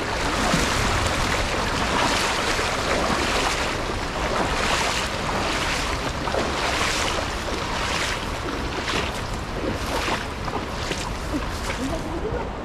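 A strong river current rushes steadily, with loud broadband water and wind noise throughout and surging pulses, while voices speak faintly underneath.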